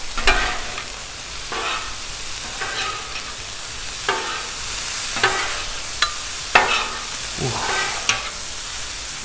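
Beef fried rice ingredients with garlic sizzle loudly on a Blackstone griddle. A constant frying hiss is broken by repeated scraping and clanking bursts of a spatula stirring and flipping the food at irregular intervals.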